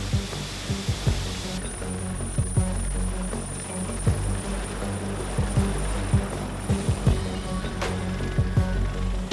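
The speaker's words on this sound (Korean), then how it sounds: "요란한 굉음이 연평도를 뒤흔듭니다. 119 헬기가 연평도로 출동한 것인데요." A 119 emergency rescue helicopter flies over Yeonpyeong Island, its rotor chop thudding in a rapid rhythmic pulse over a loud engine whine that rises partway through and holds close and strong throughout.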